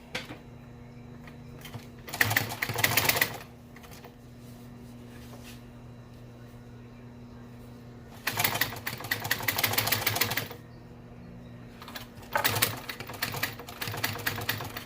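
A walking foot upholstery sewing machine stitches in three separate bursts of rapid mechanical clatter, each a second or two long, separated by quieter stretches of low hum.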